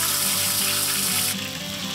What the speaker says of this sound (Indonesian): kulit buah naga pun ditumis bersama bumbu dan diberi tambahan buncis hingga bumbu meresap serta sedikit layu